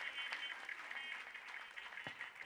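Faint applause from an audience at a spirituality and meditation talk, a soft, even patter of clapping heard from a distance, fairly quiet and without speech.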